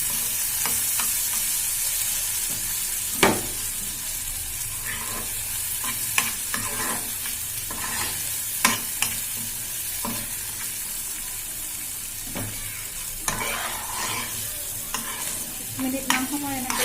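Mashed potato frying in a pan with a steady, close sizzle, broken by sharp scrapes and clinks of stirring every few seconds; no talking.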